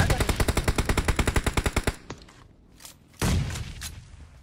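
Rapid automatic gunfire in a battle royale game, a fast burst of about fifteen evenly spaced shots lasting two seconds, followed by a few scattered single shots and a heavier blast, loud and close.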